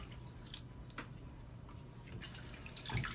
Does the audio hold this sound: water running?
yes